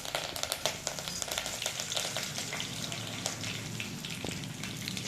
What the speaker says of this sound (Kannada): ಈಗ ಒಂದು ಸ್ವಲ್ಪ ಸಾಸಿವೆ ಕಡಲೆಬೇಳೆ ಹಾಕ್ಕೊಂಡಿದ್ದೀನಿ, ಅದನ್ನು ಸ್ವಲ್ಪ ಹಂಗೆ ಎಣ್ಣೆಯಲ್ಲಿ ಫ್ರೈ ಆಗಲಿ.